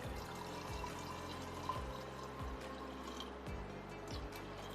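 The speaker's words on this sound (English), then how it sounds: "So first we add water." Water pours into an iNNOCHEF Touch blender as a faint, steady trickle under a low background hum, with no talking.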